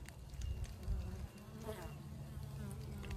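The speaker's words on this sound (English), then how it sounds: "I know these bees are getting so annoyed with me" Steady buzzing of many honeybees close by at a swarm trap, a continuous droning hum with individual insects passing near and away.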